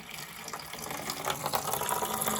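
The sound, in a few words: water draining from a water heater into a bucket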